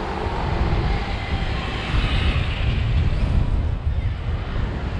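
Motron Cubertino electric scooter ridden through Paris streets: a continuous loud rush of wind and rolling noise with a faint motor whine, steady throughout.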